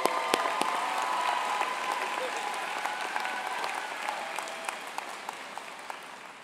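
Sustained applause from a large audience at a spring university commencement ceremony, steady and moderately distant, with scattered sharper claps standing out near the end.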